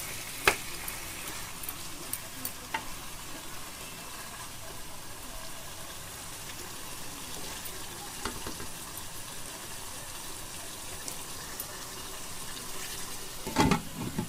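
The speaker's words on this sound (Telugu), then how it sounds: "చికెన్ కానీ బాగా మసాలా పట్టేంత వరకు బాగా ఇట్లా తిప్పించి మళ్ళించి కొంచెంసేపు కలుపుకుంటాము" Chicken coated in masala is stirred and fried in a pot for biryani, giving a faint continuous sizzle with occasional louder clinks and scrapes of the spoon against the metal, and no talk.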